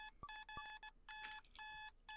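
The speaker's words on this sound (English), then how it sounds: "Dia hits her alarm and flops face first into bed." An alarm clock in the video game Butterfly Soup rings with quick, bright electronic beeps in short repeating bursts, clear and isolated over a quiet background.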